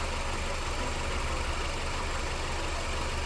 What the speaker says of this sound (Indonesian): Diagnosa awal ngeliat mesinnya ada yang pincang katanya